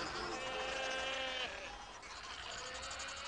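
Wavering, bleating calls of northern fur seal pups on a beach, one drawn-out cry after another over a steady background of noise.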